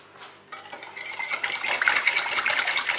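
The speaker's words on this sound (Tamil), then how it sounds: "நல்லா பிளெண்ட் பண்ணிக்கிறேன்." A utensil scrapes and clinks against a bowl while blending eggless, butterless chocolate cake batter, a brisk continuous stirring with metallic chatter that grows busier after a quiet start.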